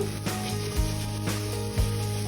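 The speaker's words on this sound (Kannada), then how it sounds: "1-2 ಟೊಮೆಟೊ ಹಾಕೊಂಡಿದ್ದೀನಿ ಇದಕ್ಕೆ. ಇದನ್ನು ಚೆನ್ನಾಗಿ ಫ್ರೈ ಮಾಡ್ಕೊಂಬೋಣ." Tomatoes frying with onion and ginger garlic paste for paneer pulao give a steady close sizzle, with a few soft stirring scrapes at regular intervals and a constant low hum beneath.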